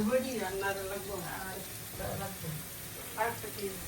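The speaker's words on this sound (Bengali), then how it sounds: "সিঙ্গারও ভাজতেছে" Singara (samosa) frying in hot oil gives a steady, soft sizzle that runs under nearby conversation throughout.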